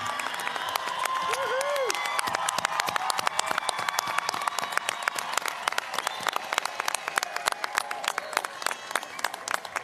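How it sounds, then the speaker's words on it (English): A large crowd at the Enumclaw School District's 2022 graduation ceremony applauds for the class of 2022, with dense continuous clapping and scattered cheers and whoops through the whole stretch. "Could we get one more round of applause for the class of 2022?"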